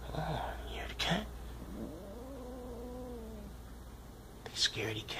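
A cat gives a low, drawn-out growl rising and falling in pitch for a couple of seconds, close by, with soft breathy sounds before and after it.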